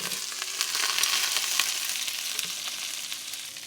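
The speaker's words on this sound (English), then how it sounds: "I'm gonna get some butter melted in a pan here. We got a nice medium-high heat going right here." Meatballs sear in melted butter in a pan over medium-high heat, a loud, close, continuous sizzle with light crackles and occasional stirring taps.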